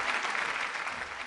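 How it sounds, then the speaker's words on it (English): Steady applause from an audience at a corporate brand event in India, a dense wash of clapping at moderate volume with no voices over it. "Let's welcome her on stage with a round of applause."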